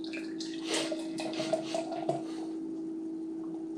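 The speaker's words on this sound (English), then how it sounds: "I got a little aggressive with that pour" Blaze Brewing One Way IPA poured briskly from a container into a glass, a splashing, gurgling stream that peaks in the middle and then fades out.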